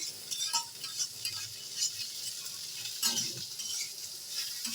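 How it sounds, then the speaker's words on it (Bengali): Bitter gourd and potato pieces sizzle steadily in a pan while a spatula scrapes and stirs at intervals, with soft clinks of metal against the pan. "এখন ঢাকনা খুলে ভালো করে নাড়িয়ে দিচ্ছি আস্তে আস্তে ভেজে নেবো"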